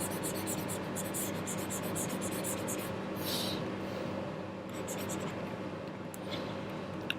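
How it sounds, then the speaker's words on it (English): Pen strokes scratch out an exercise solution in quick, light bursts of scribbling close to the mic, set against a steady background hum. "let me write it differently"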